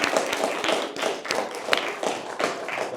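A small group of wedding guests applauding, with irregular, fairly close claps and taps forming a steady patter.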